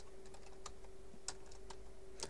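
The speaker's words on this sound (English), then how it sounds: "And I try not to have typing errors, because I'm full of fail." Someone types a command on a computer keyboard while playing Minecraft, giving a run of soft scattered key clicks at close range over a faint steady electrical hum.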